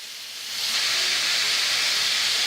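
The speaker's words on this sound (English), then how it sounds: "right now it's starting to sizzle up" Steady broadband hiss of chorizo sizzling in oil in a hot pan, rising in loudness after a moment and then holding constant, close up.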